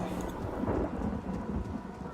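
Thunder rumbles through a rainstorm in the video game Diablo 2. A deep, continuous roll sits under steady rain hiss, loud and enveloping, with no talking.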